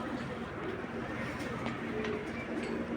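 A racing pigeon coos softly in a loft, low murmuring calls under steady background noise and a faint voice.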